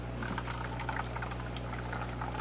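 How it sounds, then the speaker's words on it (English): Water trickles and pours steadily through a coffee filter while straining brine shrimp, a soft continuous bubbling flow under a low steady hum. "let the water run down, and what's that doing is pouring down the coffee filter"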